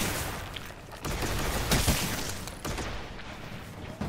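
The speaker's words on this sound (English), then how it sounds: "Here, Leia, get a headshot on this on this yellow dude here." Gunfire in a shooter video game rings out in a short burst of loud, overlapping shots, with a sharp peak near the middle and a quieter shot later in the clip.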